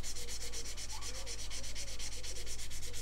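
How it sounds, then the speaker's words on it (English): Sandpaper of 800 grit rubbed by hand over a plastic model aircraft fuselage, giving close, even back-and-forth scratchy strokes in a steady rhythm over a low background hum. "And then I'm going to go up to the 800 grit."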